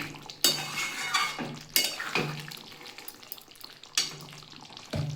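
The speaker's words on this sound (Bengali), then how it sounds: "আজকের রেসিপিটা একটু নাড়িয়ে দিচ্ছি" A spoon stirs a vegetarian ridge gourd, potato and paneer curry in a pan. Several close metallic scrapes and clinks strike the pan over a soft frying sizzle.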